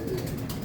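Pigeons kept in a loft coo softly and steadily, a low murmuring burble that runs throughout the short moment at moderate distance.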